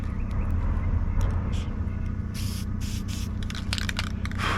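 Light coats of spray paint hiss from a can onto car parts for a Honda Civic drift project, in several short bursts over a steady low background hum, with no talking.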